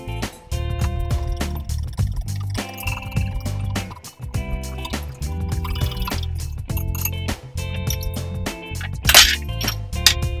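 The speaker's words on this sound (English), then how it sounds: "So we're going to mix or whisk our wet ingredients together." Wet ingredients for a chocolate cake whisked in a bowl, a steady run of sloshing, clinking strokes, fairly close and continuous throughout.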